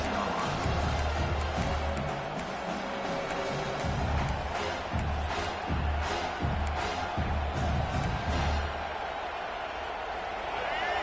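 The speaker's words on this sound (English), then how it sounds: "This crowd knows when to bring it." A college football stadium crowd in Miami rumbles and cheers in waves, loud and continuous, with thumping low beats and a commentator talking over it.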